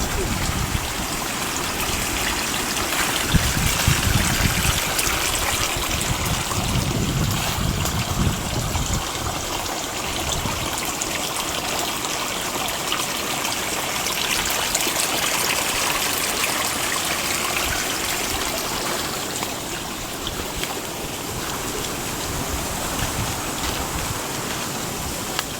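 Storm water flows down through a garden pond stream, a continuous close rush and trickle that stays steady throughout.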